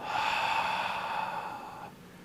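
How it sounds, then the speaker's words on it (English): A single long, breathy exhale from a qigong breathing practice, steady and close for nearly two seconds and then trailing off into quiet. It stands alone, with no talk over it. "An inhale, another inhale, and an exhale."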